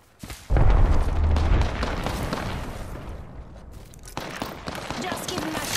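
A frag grenade blows up with a heavy, close boom in Apex Legends, followed by a dense crackle of gunfire and battle noise that keeps going in bursts, with speech mixed in.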